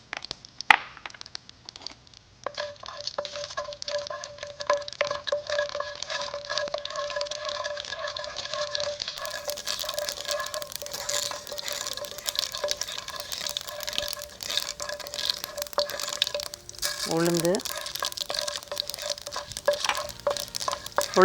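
Mustard seeds frying in hot oil in a kitchen, a soft continuous patter of crackles and pops at close range, rising in intensity partway through, with faint kitchen clatter and no talk.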